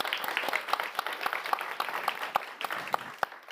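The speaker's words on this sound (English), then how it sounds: "You're right, that does deserve a round of applause." Applause from a summit audience, a steady wash of many hands clapping at moderate distance, fairly soft, with no talk over it.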